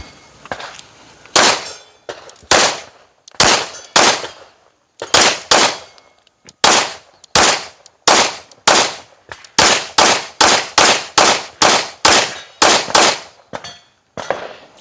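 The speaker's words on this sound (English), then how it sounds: "He's going to put some shots down range." A PSA Sabre rifle fires down range in a long string of sharp, loud, echoing shots, first spaced out and then in quicker bursts, with no talking.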